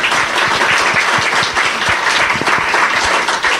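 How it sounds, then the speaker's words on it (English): Audience applause after a documentary screening Q&A, dense and loud with many hands clapping continuously from start to finish, no talking over it. "I'd like to make a round of applause for you all"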